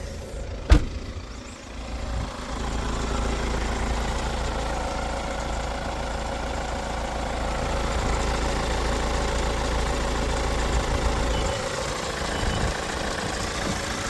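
A 2016 Hyundai Santa Fe 2.2 diesel engine idles steadily up close with the fan off, a low rumbling drone with a faint knocking texture, preceded by a single sharp click near the start.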